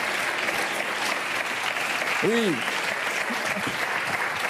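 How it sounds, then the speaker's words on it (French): Applause on a French television variety show as Benoît, who had been backstage, is welcomed, a steady broadband crowd clapping that runs throughout, with a brief spoken word near the middle. "On peut applaudir Benoît qui était en coulisses."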